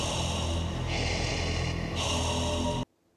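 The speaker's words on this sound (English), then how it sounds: "He also has this rhythmic breathing track that they play" Rhythmic breathing effect from the horror film Biotherapy, a steady, loud, continuous wash of breathy noise that pulses slightly before cutting off abruptly near the end.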